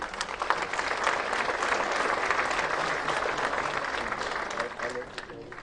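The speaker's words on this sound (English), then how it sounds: "With a thunderous round of applause, please help me welcome Mr. Sandeep Narula, Chairman, ESC." Steady, dense audience applause at an inaugural ceremony for an electronics expo, welcoming a chairman to the stage; loud, even clapping that holds for several seconds without pause.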